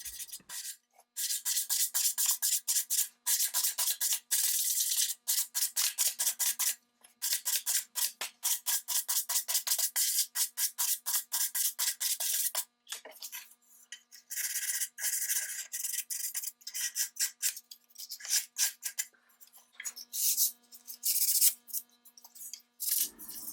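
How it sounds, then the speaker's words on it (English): Parts of an old Brewster lamp are sanded by hand with 400 grit sandpaper, giving rapid, close, rhythmic scratchy strokes that run almost without a break, with short pauses between passes and no talk. "I'll sand them down with 400 grit sandpaper this time before I put the final primer"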